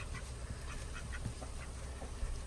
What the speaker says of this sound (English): So here's a quick update on our two ducks, Allie and Bam Bam.